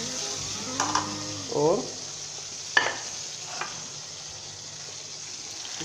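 Shredded cabbage and boiled eggs stirred and fried in a pan over medium heat with chili sauce and green chili, giving soft scraping stirs and a low sizzle with a few louder clinks; a voice says a single word.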